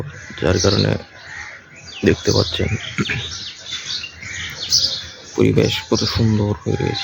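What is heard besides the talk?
birds singing at sunrise, sparrows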